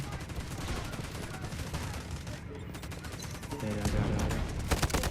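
Rapid gunfire in the Delta Force Mobile shooter, dense bursts of shots running continuously and growing louder toward the end, with a busy game mix underneath.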